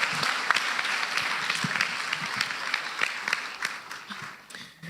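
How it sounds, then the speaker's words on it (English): Audience applause for children after a church school skit, a steady wash of clapping that holds for the full stretch and tapers slightly near the end, with a few louder individual claps standing out. "so another round of applause for the children."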